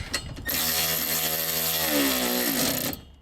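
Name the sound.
electric ratchet tightening Mini Cooper harness bar bolts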